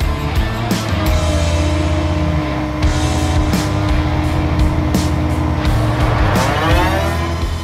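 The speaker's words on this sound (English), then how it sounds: "put the excavator engine at maximum idle and engage the hydraulics" Excavator engine held at maximum idle with hydraulics engaged, a loud, steady, close mechanical drone with a constant hum and a slight whine, no talking.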